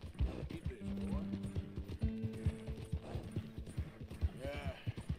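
Hooves of a horse in the video game Red Dead Redemption 2 clop in a steady walking rhythm, up close, mixed with soft gear-like creaks, a brief whinny, and someone talking over it with music underneath.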